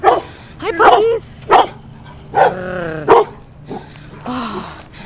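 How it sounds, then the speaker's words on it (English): Several dogs bark loudly and close by outdoors, sudden sharp barks and yips in uneven bursts with some whimpering between them, mixed with a few startled human vocal sounds. "these dogs just scared me"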